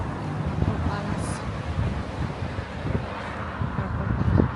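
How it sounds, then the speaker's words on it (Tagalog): Strong gusty wind blowing outdoors on a cold, frosty day near a purple building in Washington, roaring and buffeting the microphone in uneven surges, with a person talking intermittently underneath. "Yan yung mahangin. Mahangin na masyado."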